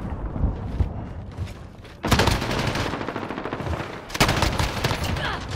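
Light machine gun fire in Call of Duty: Modern Warfare rattles in long, dense bursts, loud and close, with a short lull before each renewed stream of rapid shots and no voices.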